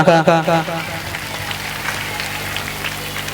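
Audience applause at a school Kannada Rajyotsava celebration, a soft, steady patter of many hands that follows a brief voice at the start and carries on evenly, a little distant.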